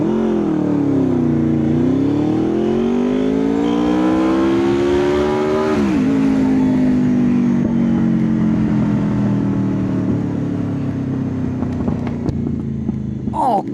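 A motorbike revving and accelerating while being ridden, engine pitch climbing through a gear, dropping at a shift, then climbing steadily again, loud and continuous with steady wind and road noise and no talking.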